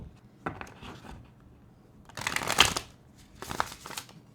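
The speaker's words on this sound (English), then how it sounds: "A little bit of card shuffling ASMR." Playing cards being shuffled up close in quiet, crisp bursts of rapid riffling and flicking, with short pauses between rounds.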